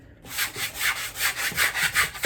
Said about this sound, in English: this is the last chance you'll ever get to sand this